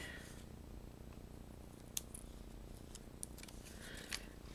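Scissors snipping through Dollar Tree foam pads to cut them in half, a few faint, sparse crisp snips over a quiet background.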